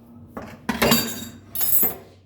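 A spoon clinking and scraping against a bowl while curd is mixed with saffron and fennel powder, two close metallic bursts of stirring, no voices.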